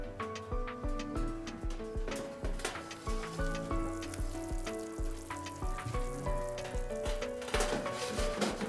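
Onion kebab sizzles over an intense fire, a steady crackling fry broken by sharp ticks and clinks from cooking tools, with no talking.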